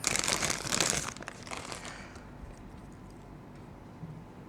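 Plastic wrapping around a new Leica lens crinkles loudly for about a second, then drops to a faint rustle as the unpacking continues.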